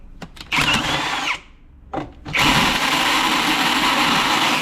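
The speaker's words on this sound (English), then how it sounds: "I think I broke my drill." A handheld power drill whirs loudly in short bursts, stopping and starting, then runs steadily at high speed while modifying an engine rocker cover for fittings, close to the microphone with no talking.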